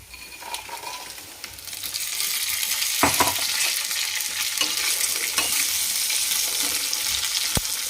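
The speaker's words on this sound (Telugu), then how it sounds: "ముందే వేయించి పెట్టుకున్న బెండకాయ ముక్కల్ని మరియు పల్లి పల్లీలను వేసేస్తున్నాను" Fried okra pieces and peanuts hit a hot pan and sizzle up loudly, followed by continuous frying crackle with a few clinks of stirring.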